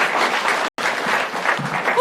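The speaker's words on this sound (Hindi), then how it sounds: "एक बार जोरदार तालियां राजीव के लिए" An audience applauds a contestant on a comedy escape-room show, a dense and loud burst of clapping with a short break, then a voice starting to speak at the end.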